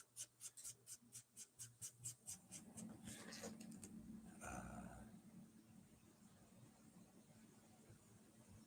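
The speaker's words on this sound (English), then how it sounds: "What are you barking at?" A dog gives a series of about ten short, rhythmic muffled barks or woofs, followed by softer grumbling and a brief rustle, then quiet room tone; all of it is faint.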